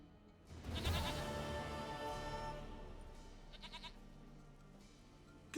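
A goat in The Witcher 3 gives a loud, close, wavering bleat that lasts about a second before fading into a quieter, softer trailing call, with no one speaking.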